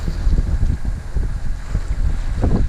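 A sailboat under engine power off Newfoundland, crossing from Conception Bay toward Trinity Bay, gives a steady low engine rumble mixed with gusty wind noise buffeting the microphone and the wash of water, loud and continuous.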